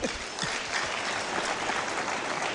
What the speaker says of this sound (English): boy child can clap for me.